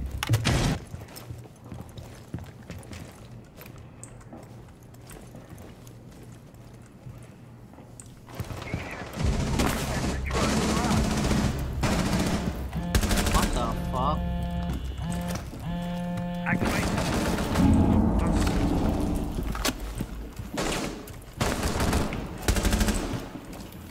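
Automatic gunfire rattles in a shooter video game. Quiet at first, it breaks into loud, dense bursts of shots for the rest of the stretch, with no voices over it.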